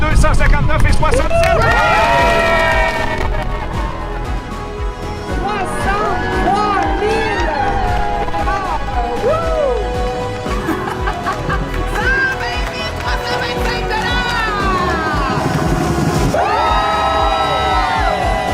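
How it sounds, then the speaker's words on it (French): A large crowd at a cancer foundation fundraising event cheers, whoops and shouts in a loud, continuous din, with excited voices and children's shouts layered over the sustained noise from start to finish. "Vous pouvez vous applaudir."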